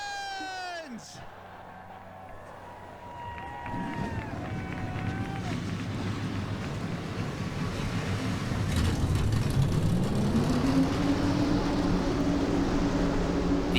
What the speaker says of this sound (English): The engines are fired.